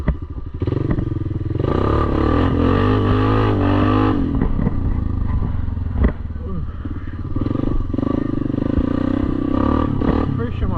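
A quad ATV engine revving hard while riding through mud, loud and close throughout with continuous throttle roar, clattering and thumps.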